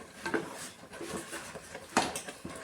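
A spoon stirs and scrapes food cooked with ghee in a pan, giving soft, uneven clinks and scrapes at close range along with a sharper knock near the end.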